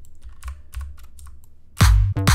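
A computer keyboard shortcut (Control+L) pressed while producing an aleteo and guaracha beat in music software: a quick run of close, crisp key taps, then loud music suddenly bursts in.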